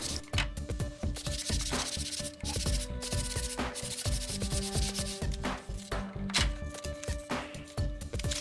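Dry sanding a custom paddle produces a close, raspy scrubbing of abrasive on the surface in quick, uneven back-and-forth strokes, steady and fairly loud throughout with no voices.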